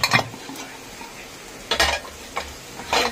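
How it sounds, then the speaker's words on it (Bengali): A metal lid is lifted off a pot of steamed prawns in a home kitchen, giving a few sharp clinks and scrapes spaced apart over quiet background hiss. "আমি এখন ঢাকাটা তুলে দেবো।"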